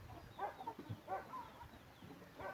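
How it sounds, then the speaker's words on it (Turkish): A two-and-a-half-year-old aseel (Indian game) breeding rooster makes a few low, close clucks and murmuring calls in short bursts. "bir tane damızlık horozumuz var"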